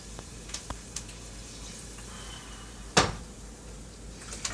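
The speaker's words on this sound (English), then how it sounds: "And now I'm frying the garlic in way too much oil." Smashed garlic cloves fry in a generous amount of oil, giving a steady, soft sizzle broken by a few light clacks and one sharper knock of cookware.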